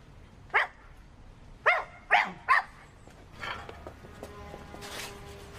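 Dog barks from the 2007 Numberjacks cartoon: four sharp barks in a quick uneven burst, loud and close, followed by softer tonal cartoon sound effects.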